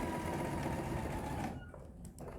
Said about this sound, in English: I am just sewing all the way around just the pocket part